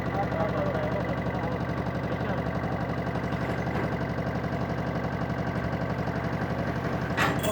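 A small tractor engine runs steadily nearby, hauling an old-style English plough in a field in place of bullocks; the loud, continuous diesel chug keeps an even knocking rhythm throughout.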